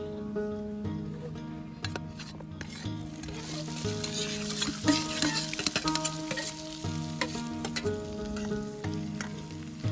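Chopped onion frying in hot oil with cumin and coriander at a camping cookout, a dense crackling sizzle with repeated metallic stirring scrapes and clanks.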